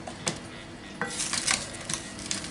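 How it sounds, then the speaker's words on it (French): Onions browning in a pan, a soft steady sizzle with a few sharp scraping clacks of a utensil against the pan scattered across the clip. "Et je fais dorer mes oignons."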